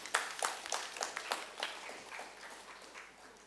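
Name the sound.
audience applause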